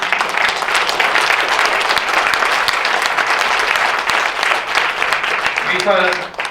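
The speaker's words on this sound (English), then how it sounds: "let's give Dr. Warren a nice round of applause" An audience at a black-tie event breaks into sustained applause, a dense wash of clapping lasting about six seconds, with voices rising as it fades at the end.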